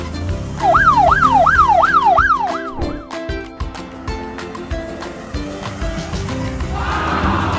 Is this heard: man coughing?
no